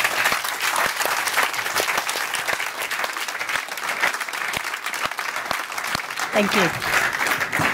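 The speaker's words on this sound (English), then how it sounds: "Please give them a big applause" Audience applause closing a conference panel, a sustained crowd of clapping hands filling the room, with a brief spoken thanks over it.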